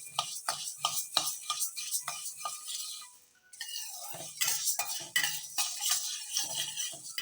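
Horse gram dry roasts in a pan while a utensil stirs it in quick, irregular scrapes and ticks of rattling grains, close and fairly quiet, with a short pause partway through.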